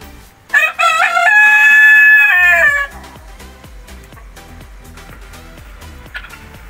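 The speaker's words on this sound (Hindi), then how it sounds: "ये है जी हमारा जालिम मुर्गा।" A rooster crows once, loud and close, a long drawn-out call, followed by a quieter rhythmic clicking in the background.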